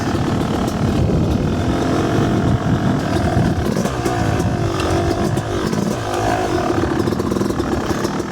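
A loud dirt bike engine roars continuously while riding on a trail, a dense rumbling drone with steady revving, close and overpowering throughout with no talking.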